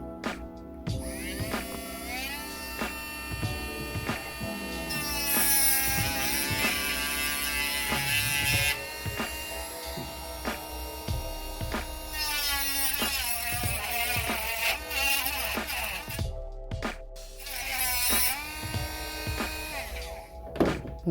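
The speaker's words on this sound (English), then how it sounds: "I'm just going to Dremel this stuff off and make it nice and clean." Dremel rotary tool cutting plastic off rear guides on a Scirocco MK2, a close high-pitched whirring buzz rising and falling in pitch as it bites, with short pauses and handling thumps, no talk.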